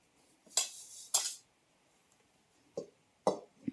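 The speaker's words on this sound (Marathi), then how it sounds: "पण आपली चूल पेटले, मग म्हणून साठी मी अगोदर ठेवते कढई" A metal kadai is set onto a wood-fired clay chulha before frying masala-coated fish. Several sharp metallic clanks and scrapes ring out close by, separated by quiet pauses.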